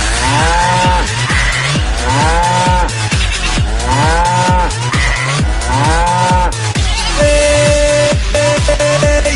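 Cattle at the busy Rampura Meradia Bazar cattle market in 2024 give about half a dozen loud, close moos one after another, with a constant crowd hum underneath.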